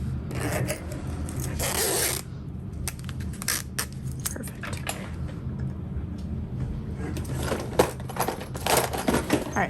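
Bag zippers being worked while prepping them for a crossbody bag: repeated scratchy zipping runs and rustling handling noises, close and fairly loud, with small clicks and taps between strokes.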